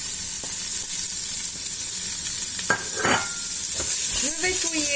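Carrots, lentils, garlic and spices being stirred in a pot: a steady background sizzle and hiss with a few scraping spoon strokes and light clinks against the pot, close by.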